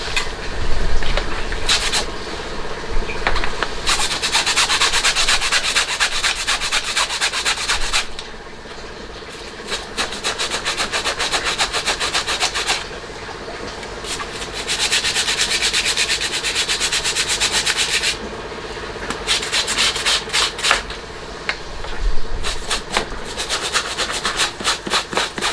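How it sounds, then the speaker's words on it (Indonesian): A backpack strap being scrubbed with a brush during washing, continuous close rasping strokes in long bursts separated by short quieter pauses. "Kita gosok terus guys."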